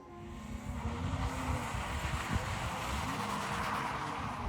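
A manual car spins a donut, its engine droning steadily with a rising whine while the tires scrub and skid continuously, loud and close throughout.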